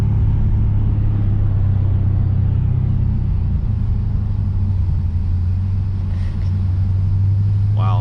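Lexus RC F driving through Prague streets, a steady loud low engine rumble and road roar inside the car, continuous with a slight shift midway.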